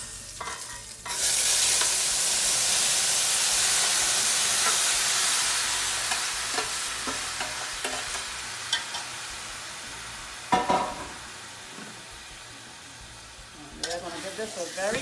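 Oxtail drops into a hot pot and erupts into a loud, hissing sizzle that slowly eases, followed by stirring scrapes and clanks against the pot, close up with no speech.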